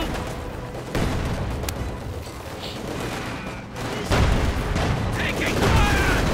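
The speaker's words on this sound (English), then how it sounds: "Obs under heavy fire, half the squad is gone." Rapid gunfire and booming explosions from a Company of Heroes 2 World War II strategy match, with a squad under heavy fire and MG42 machine gun bursts, loud and continuous with heavier blasts near the end.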